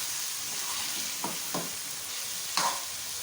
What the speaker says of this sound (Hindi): अच्छी तरह से भूनें ताकि इसका कलर चेंज हो जाए